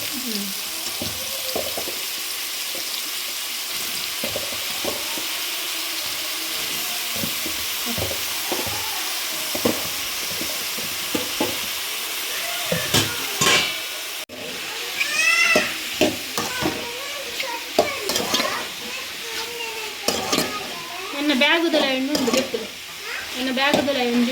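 Mushrooms frying in a pan with coconut oil give a steady sizzle under scattered stirring clatter, while a cat meows repeatedly and voices talk intermittently in the later part.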